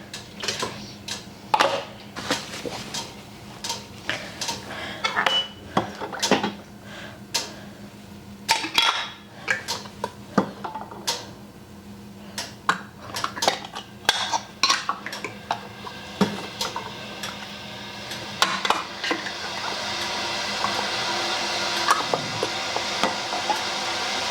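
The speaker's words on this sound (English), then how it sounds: "Lids and rings, and then right into the canner." Metal canning lids and screw rings clink and clatter as they are set onto glass jars of pressure-canned mushrooms, a close run of sharp, irregular ticks and taps, with a steady hiss building toward the end.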